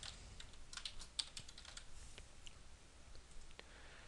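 A username and password are typed on a computer keyboard in quick, light, steady keystrokes, heard close but soft against a low background hiss, with no voices.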